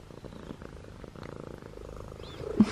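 A pet cat purrs close up, a steady low rumbling purr running throughout, with a brief louder sound near the end.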